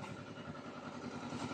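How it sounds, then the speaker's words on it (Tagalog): Irrigation water pump engine running steadily in a rice field, a continuous loud mechanical drone with clattering texture throughout, no voices. "nagpapatubig kami ng palayan kaya maingay yung ating makina doon umaandar"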